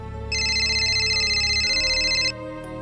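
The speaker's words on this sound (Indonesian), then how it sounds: "Tiba-tiba HP Nabil berbunyi" Mobile phone ringing with a steady electronic two-tone warble for about two seconds, loud and close, set against a low hum and rain-like background.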